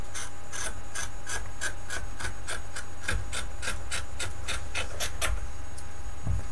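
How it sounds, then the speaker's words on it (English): Scissors snipping through the bottom seam of a cotton t-shirt, a fast regular series of crisp cuts, close and clear with no talk. "I'm gonna cut off the bottom seam."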